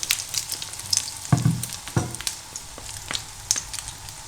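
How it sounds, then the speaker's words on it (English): Egg mixture sizzling in a hot, heavily oiled pan, a crackling fry with scattered pops and a couple of soft thuds of stirring, close and moderately loud. "So now I'm going to put my egg mixture into the pan."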